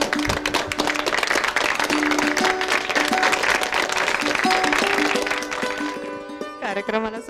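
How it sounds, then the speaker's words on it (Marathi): An audience claps through a Marathi award ceremony for song and poetry, a sustained round of applause from a modest crowd heard indoors, with a voice speaking over it before the clapping fades out. "पण टाळ्या जास्त वाजल्या तर चालतील।"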